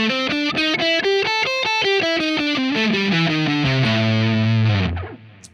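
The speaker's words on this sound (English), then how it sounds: "Now the blues scale." Heavily distorted electric guitar races through the A blues scale in fast, evenly picked notes, up and back down, finishing on a long ringing low note that cuts off; loud, close, no talking.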